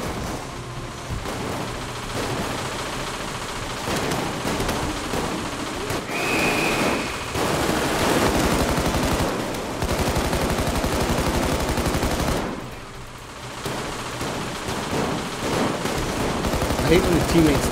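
Rapid gunfire from the heist video game Payday 2, dense bursts of automatic shots running almost continuously over a busy mix, with a brief lull partway through and talk mixed in.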